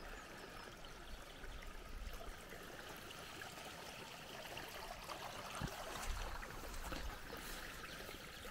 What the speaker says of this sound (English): And then quite some water leaving this way, filling up 9 swales at the bottom.